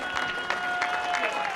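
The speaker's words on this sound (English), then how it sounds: "another big round of applause from the East Kilbride supporters" Steady crowd applause from East Kilbride supporters at a football match against Gala Fairydean Rovers, heard at a distance, a dense wash of clapping with a faint whistle-like tone running through it.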